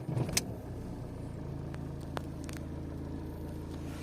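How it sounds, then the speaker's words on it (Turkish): A Fiat car engine idles steadily at low revs after starting, with a faint click and brief jingle at the beginning and a low continuous rumble throughout, close by and without talking. "37'ye aldığımızda aracımızı çalıştırıyorum."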